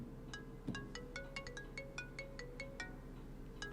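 A phone rings with a rapid, repeating electronic melody of bright beeping notes, fairly quiet, over a low background hum.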